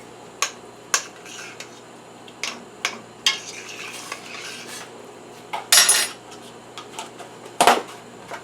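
Metal utensils clink against a pot while a heaping spoonful of crushed garlic goes in for chicken and dumplings, sharp scattered taps and scrapes spaced irregularly over a quiet kitchen background.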